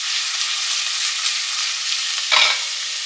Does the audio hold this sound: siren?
no